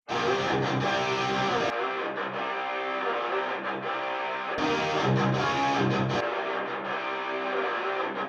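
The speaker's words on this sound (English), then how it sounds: "Then I did a telephone style EQ, took out the lows and the highs" Music played through an audio effects chain, shifting between a full-range sound and a thin, band-limited, telephone-like tone with a distant, reverberant quality.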